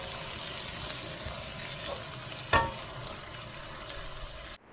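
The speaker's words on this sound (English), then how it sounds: "I'll carry on stirring those. As I say, stir them up so that they don't burn." Softened vegetables being stirred in a pan while cooking a curry in a campervan, a steady soft sizzle with a single sharper scrape of the utensil midway, moderately quiet and without talk.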